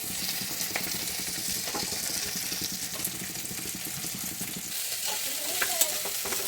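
Curry leaves for chicken curry sizzle and crackle in a hot pan, a steady frying hiss with light stirring scrapes and occasional pops, close and continuous, no one speaking.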